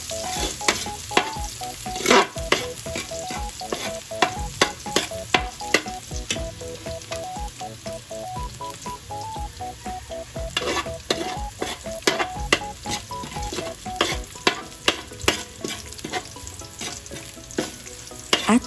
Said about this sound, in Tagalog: Igisa ang bawang hanggang maging mabango ito.